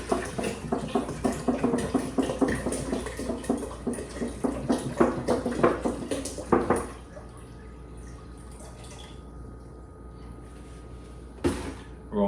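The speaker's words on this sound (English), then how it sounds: "We're gonna go ahead and start putting this water in." Spring water poured into a brew pot on a lit burner for a one-gallon Sierra Madre beer batch, a busy splashing patter for about seven seconds that then stops, leaving a quiet room hum and a brief knock.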